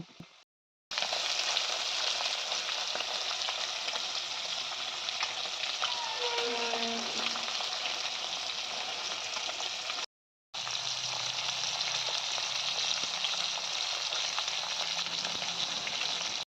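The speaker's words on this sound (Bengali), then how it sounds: "মাছের মধ্যে নুন হলুদ মেখে নিলাম এখন মাছটাকে ভাজতে দিয়ে দিলাম" Fish rubbed with salt and turmeric fries in a hot pan, a loud, steady crackling sizzle that runs nearly unbroken, with a brief pause before it resumes.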